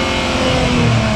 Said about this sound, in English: So go on, rev this up.